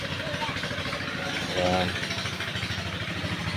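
Engine of an irrigation water pump running in a rice field, a steady rapid chugging putter close by, with a person speaking briefly over it.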